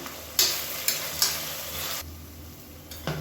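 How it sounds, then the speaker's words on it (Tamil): Onions being sautéed in hot oil with leaves and a little salt for mushroom biryani, a steady close sizzle broken by several sharp scraping stirs of a spoon in the pan. "இப்போ பாருங்கள், வெங்காயம் நல்லா வதங்கிடுச்சு."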